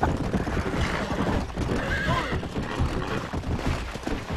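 A horse in the Red Dead video game gives a loud, close whinny with clip-clop hoofbeats, amid busy game sounds and no talk.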